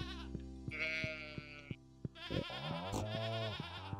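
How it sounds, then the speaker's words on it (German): Goats bleat in the Stardew Valley farming game, with a couple of short, wavering cries rising over steady background game music. "Das sind typische Ziegengeräusche."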